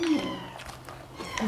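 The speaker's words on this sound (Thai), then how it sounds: "แมวไหนมาร้องแถวเนี้ย" A cat meows close by, a short rising cry at the start and another at the end, with soft murmuring voices between.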